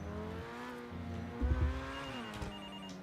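A phone-style ringing tone sounds while calling another player in the video game Concord, a short electronic ring over a low steady hum.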